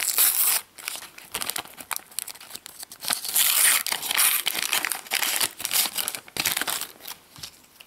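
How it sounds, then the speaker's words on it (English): Crinkling and tearing of foil Frozen sticker packets being opened by hand, close and irregular rustles with short pauses, no talking. "So let's open and see which stickers we're getting."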